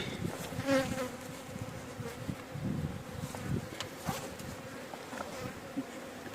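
Honeybees buzzing at a hive, a dense, continuous hum with individual bees droning past close by, no talking.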